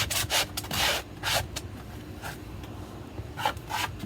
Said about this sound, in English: really want to sand this part off as much as I can because it's a big smudge.